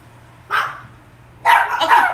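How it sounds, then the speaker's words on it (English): Dogs bark at close range indoors: one sharp bark, then a pause, then a quick double bark, all loud against a quiet room with no talking. "They bark the minute he comes out of his room."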